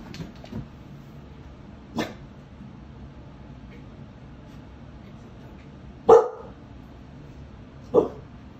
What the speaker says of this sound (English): She's ready to bark, it does not matter why.